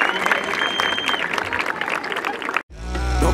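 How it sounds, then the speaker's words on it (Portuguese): A crowd at a rap battle in Barueri claps and cheers for a contestant, loud and continuous for over two seconds before cutting abruptly into a low beat and other sound. "Palmas pro 15 aí,"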